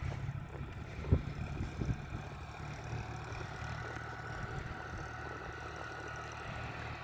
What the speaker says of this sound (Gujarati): ટ્રેક્ટર ચલાવી રહ્યા